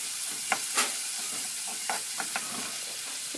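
Crushed ginger and garlic frying in a pan, a soft continuous sizzle broken by several sharp scrapes and clicks as the mixture is stirred.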